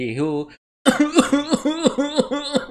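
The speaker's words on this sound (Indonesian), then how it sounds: "saya batuk tapi batuk kan juga mengeluarkan suara" A short voiced sound, then a string of rhythmic, bursting coughs in quick succession, close and fairly loud.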